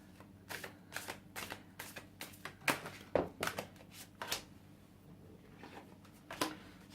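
Tarot cards riffled and shuffled in a series of quick, crisp bursts, close up, with brief pauses between passes and no talking.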